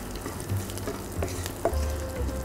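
Garlic fries in ghee and oil for sesame rice, giving a close, continuous crackling sizzle with light stirring scrapes throughout and no voices.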